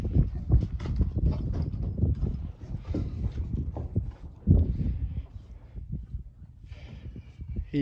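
Hooves clip-clop at a slow walking pace, close by and fairly steady, with scuffing and rustle in between.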